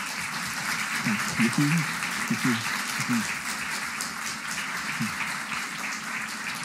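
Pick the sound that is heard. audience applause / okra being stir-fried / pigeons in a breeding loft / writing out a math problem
audience applause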